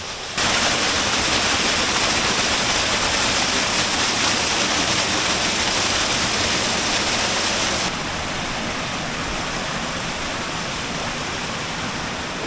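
A loud, constant rushing roar of Chingri waterfall in Ruma, Bandarban, that drops slightly in level partway through, with no voices.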